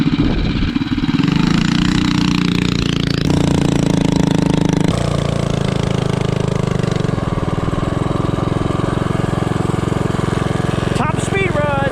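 Azusa minibike with a 212 Ghost engine, 3.52 ratio gearing, on a top speed run: a loud, sustained engine roar with gear-like pitch shifts, near and constant throughout, with brief talk near the end.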